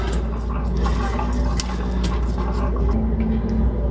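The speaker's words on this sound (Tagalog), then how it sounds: "hugasan po nating mabuti yung ating talbos" Sweet potato leaves are washed by hand in water, a steady close splashing and sloshing with wet squishes, loud and continuous without speech.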